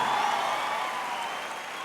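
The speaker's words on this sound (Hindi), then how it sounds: "एक बार जोरदार ताली।" An audience claps together in a dense, sustained burst of applause that fades slightly over a couple of seconds, close and filling the room.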